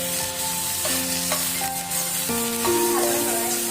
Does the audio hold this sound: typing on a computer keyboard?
no